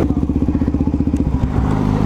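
Motorcycles pull into a gas station for a bike meet, a loud, close engine putting out a rapid pulsing idle that shifts to a smoother, steadier rumble near the end.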